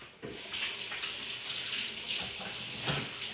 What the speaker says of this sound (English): Give my hands a quick wash.